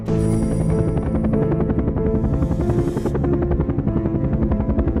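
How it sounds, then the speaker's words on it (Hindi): A cartoon helicopter arriving, loud, steady rotor thumping with a droning engine, continuous and close throughout. "बाबा का हेलीकॉप्टर पहुंच गया।"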